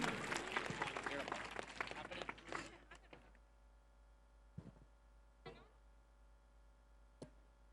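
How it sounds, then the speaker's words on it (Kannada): Applause from an audience at an anniversary celebration event, a dense round of clapping that fades out over a few seconds, leaving near silence with a few faint isolated knocks. "ಜೋರಾಗಿ ಚಪ್ಪಾಳೆ ತಟ್ರಿ ಅವನಿಗೆ."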